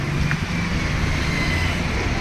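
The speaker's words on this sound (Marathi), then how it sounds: "हे बघा ही नवरीची गाडी आलेली आहे छानपैकी." A bride's car engine hums steadily close by at a Jyotiba temple in Karad, with continuous road and traffic noise throughout and no speech.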